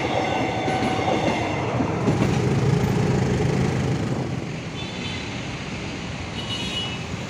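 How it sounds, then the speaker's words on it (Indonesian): An airport rail link train runs past near Manggarai station in Jakarta, a loud steady rumble with rail clatter that eases slightly toward the end. "Wow, kereta bandara teman-teman."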